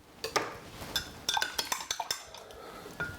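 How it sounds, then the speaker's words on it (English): A spoon stirs a detox drink, clinking against the glass in a quick, irregular series of bright taps, quiet and close, with no talking. "Just give it a lovely, lovely mix."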